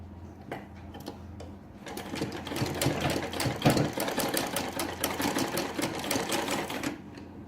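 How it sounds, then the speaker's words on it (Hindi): A sewing machine runs steadily while stitching a kurti's fabric, its fast mechanical whir and needle clatter starting after a couple of quiet seconds and continuing close and loud until it stops near the end. "अब मैं यहाँ इसको स्टिच करने वाली हूँ।"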